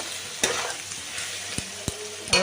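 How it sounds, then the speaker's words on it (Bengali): Spices frying in oil in a pan for a banana-blossom and rohu fish head curry, a soft continuous sizzle broken by several sharp scraping taps of a spatula stirring. "তেলের উপরেই মশলাটা ভাজা ভাজা করে নিয়ে"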